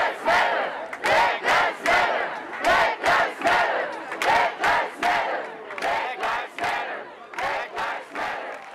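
A protest crowd shouts rhythmic chants in loud, repeated bursts, each call followed by a short pause, with many voices together at close range throughout.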